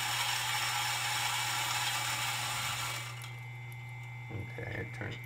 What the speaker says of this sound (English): This is a Conical grinder and it looks like it's doing a beautiful job.